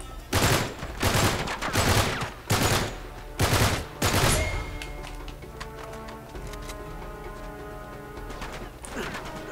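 Gunshots in Uncharted 3 split-screen co-op, five loud bursts in an uneven rhythm over the first four seconds, then quieter game noise.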